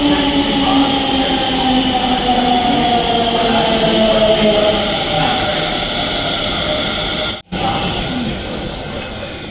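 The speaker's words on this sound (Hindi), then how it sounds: "गाइस मेट्रो आ गई है" An arriving metro train rumbles steadily nearby with a broad, loud roar and rising tones, briefly cutting out near the end before resuming.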